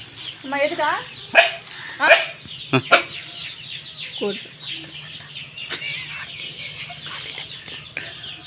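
Chickens cluck and squawk nearby in short bursts, mixed with people talking and a dog's yelps in the background.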